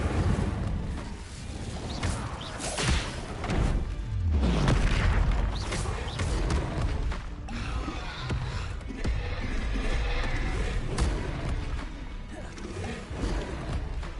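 In Hogwarts Legacy, an Incendio fire spell is cast amid continuous dense battle noise, with booming impacts and crashes layered over a steady roar, loud and close.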